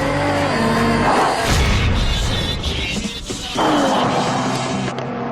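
A Jaguar F-Type's loud, roaring engine revs hard and rises in pitch, with sharp bangs and crackles mixed in, fading briefly before surging again.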